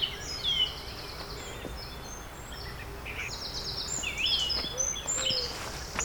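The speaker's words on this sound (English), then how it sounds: "Lots of lovely bird sounds" Birds sing and chirp outdoors in summer, scattered high calls and trills that come and go, fairly faint over a soft background hum.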